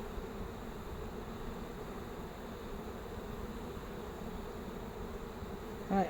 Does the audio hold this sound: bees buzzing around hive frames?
yes